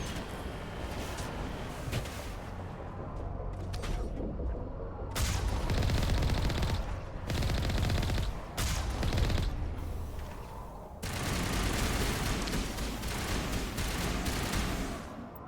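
Sustained gunfire in a Mass Effect Legendary Edition firefight, with bursts of automatic shots and heavy volleys crowding together, loud and dense throughout, with brief quieter gaps between barrages.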